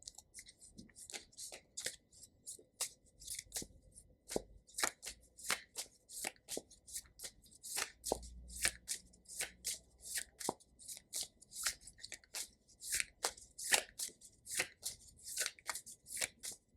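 Tarot cards being shuffled by hand, a steady run of crisp, close riffling and slapping bursts in an uneven rhythm, fairly quiet, with no talking.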